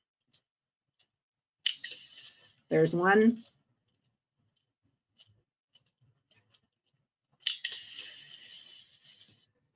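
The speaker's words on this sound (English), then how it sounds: "You can hear a whale clicking faintly in the background, and then you'll hear these reverberant clangs." Recorded underwater whale sounds in a fisheries depredation setting: two loud, sharp, reverberant clangs several seconds apart, with faint scattered clicking between them, and a voice speaking briefly in the middle.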